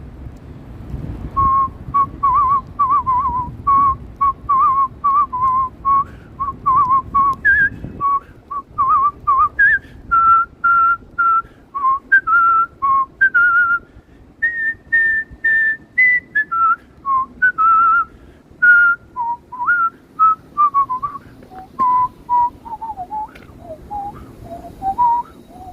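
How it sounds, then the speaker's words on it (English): A person whistles a lively tune outdoors on a snowy winter street in Toronto, clear close notes in quick phrases that rise and fall, with low wind rumble under the first few seconds. "It's hard to whistle in the cold."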